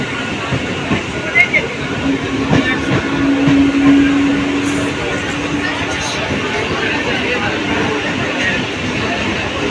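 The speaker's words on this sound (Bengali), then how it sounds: "ট্রেন এবার ছেড়ে দেবে।" A Sealdah–Canning local train rolls and rumbles steadily from inside the carriage, a constant mechanical drone with a short whining tone, beneath a murmur of passengers talking.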